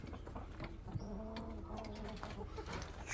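Collared dove cooing in a short, low phrase of repeated soft notes, moderately near, with outdoor background noise throughout.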